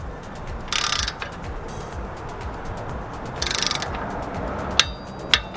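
Ratcheting torque wrench tightening wheel studs on a BMW F30, two short bursts of rapid clicking separated by a pause, followed by a couple of sharp metallic clicks as the tool reaches torque.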